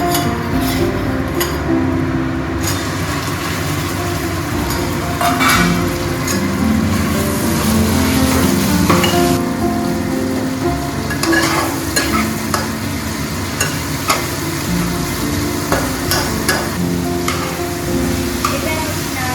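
Chopped minced chicken, about 200 grams, frying in a pan with ginger and garlic: a continuous loud sizzle with busy scraping and stirring strokes and occasional light clinks of the utensil, close up throughout.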